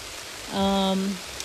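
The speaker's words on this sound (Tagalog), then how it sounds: "So maulan dito sa amin ngayon." Steady rain falls in a garden as a soft, even hiss, briefly overlaid by a voice.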